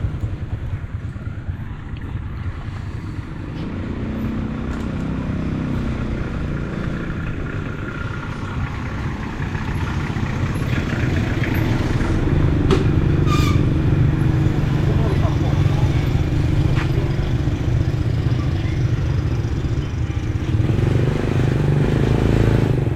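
A small engine on a pump or generator runs steadily at a wet market in Muang Kham, Laos, a continuous low drone growing slightly louder, mixed with market bustle and wind, with people talking nearby.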